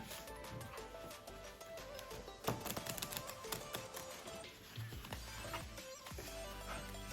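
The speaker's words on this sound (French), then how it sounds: "on va venir mélanger ces deux paquets, face cachée et face retournée" Two packs of playing cards, one face down and one face up, are shuffled together by hand during a magic trick, making quiet, rapid clicking and riffling bursts with a faint voice underneath.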